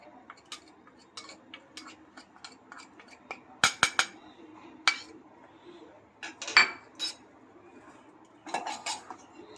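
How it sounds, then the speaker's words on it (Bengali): A spoon clinks and scrapes in a small bowl, mixing chaat masala with ground black pepper, in short irregular metallic taps with a few sharper clinks, close and fairly quiet. "এখানে যে আমি চাট মশলা আর গোলমরিচ গুঁড়োটা নিয়েছি এটাকে আমি মিশিয়ে নিচ্ছি"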